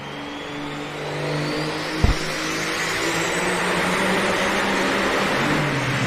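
Semi truck pulling a sled indoors at a truck pull event, its engine roaring loudly and steadily with a sharp bang partway through as the driveline breaks.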